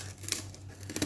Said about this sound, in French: je prends mon ciseau et je coupe autour comme ça